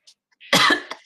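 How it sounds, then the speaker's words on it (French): A single sharp cough with a throat-clearing edge, attributed to pollen indoors, close and loud after a brief breathy intake, alone in near silence. "plein de pollen ici et du coup ça tousse"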